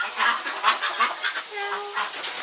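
Chickens in a backyard coop give short, repeated clucks and squawks at close range, several calls overlapping in an uneven rhythm with no talking.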